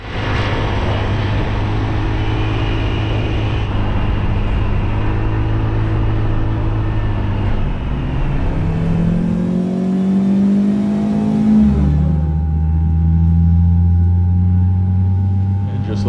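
A rental motorbike engine drones steadily while riding near Khao Sok, Thailand, its pitch shifting as it slows and revs, with wind rush throughout.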